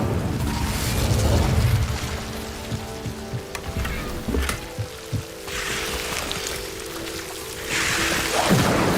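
A fire spell cast in Hogwarts Legacy, heard as a loud roaring, crackling burst of flame with booming impacts over a dense game soundscape, swelling again near the end.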